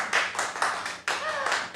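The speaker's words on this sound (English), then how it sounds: "Applause." A live audience claps at a comedy show, with a handful of distinct, fairly close hand claps in an uneven rhythm, loud and separate rather than a full ovation, with faint voices underneath.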